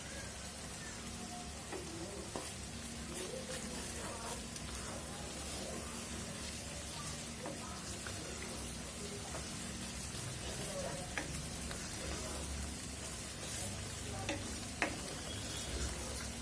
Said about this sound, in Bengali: কমপক্ষে 10-15 মিনিট মশলাটা কষাইতে হবে